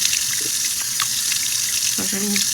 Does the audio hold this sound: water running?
yes